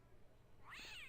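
A single cat meow from the Broken Sword: Shadow of the Templars video game, rising and bending in pitch and fairly clear over a faint low background, arriving near the end of a short stretch.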